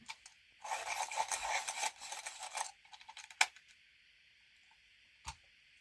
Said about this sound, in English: I need to sharpen the white as well